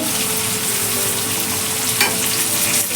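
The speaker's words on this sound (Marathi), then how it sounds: "आता कांदा टाकते हे बघा कांदा टाकते थोडा कढीपत्ता टाकते" Onion and curry leaves frying in a pan for chana masala, a dense, continuous hiss and crackle of hot oil, close and steady, with a faint scrape or two of a spoon.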